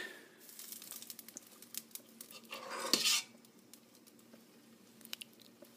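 Someone eats freshly made marinara sauce of olive oil, onions, leeks, garlic and butter, with faint utensil clinks against a dish, soft chewing and one louder scraping moment, quiet and close.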